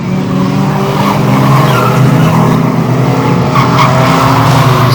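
Banger racing cars skid and slide past at close range on an oval raceway, engines roaring loudly and tires scrubbing over a dense, continuous wash of motor noise.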